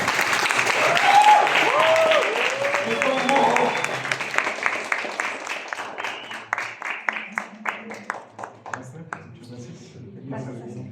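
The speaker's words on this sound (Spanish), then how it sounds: "Le damos un aplauso a su maestra." Dense classroom applause for a teacher at a school gathering, loud at first amid voices, then thinning into slower scattered claps that trail off near the end.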